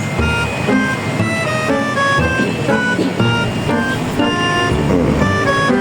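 Heavy road traffic of cars and larger vehicles makes a loud, continuous engine rumble close by, with several short horn toots sounding over it.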